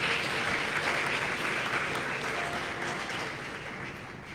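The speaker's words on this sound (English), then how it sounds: "Please, a big round of applause, ladies and gentlemen." A crowd at an inauguration ceremony for a heavy equipment operator training workshop breaks into sustained applause, dense and loud, slowly tapering toward the end.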